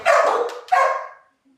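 A happy little rescue pup barks twice in quick succession, close and loud, the second bark trailing off into quiet.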